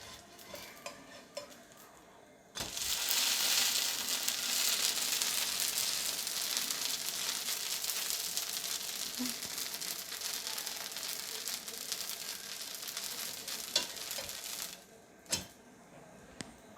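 A ghee karam dosa roasts on a hot griddle, a steady loud sizzle starting suddenly after a quiet moment and running for about twelve seconds before cutting off, with a few scraping clinks near the end.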